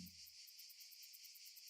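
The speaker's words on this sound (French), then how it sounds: "Vous entendez les cigales sans les voir." Cicadas sing continuously in a dense, shrill, pulsing chorus that fills the air, quiet and distant-sounding, with no other sounds.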